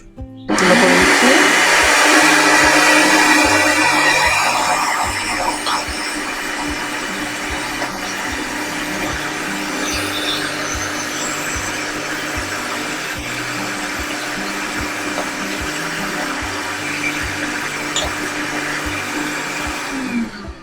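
Chital fish being minced for kofta in a machine: a loud, continuous whirring motor with a grinding rattle, strongest at the start, then settling to a steady drone, with no talking.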